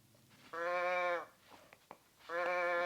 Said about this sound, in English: it's the kind where you just kind of move it upside down and it's supposed to make these mooing noises